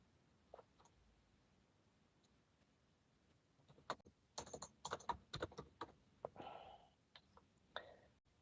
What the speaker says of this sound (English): Then please type in your question.